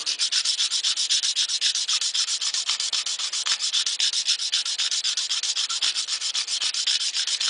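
A hand file scrapes back and forth across stainless steel automotive trim in quick, even strokes, a bright hissing rasp repeating steadily and close with no voices.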